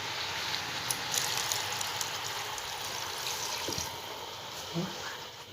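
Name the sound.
pouring a glass of water into a cooking pot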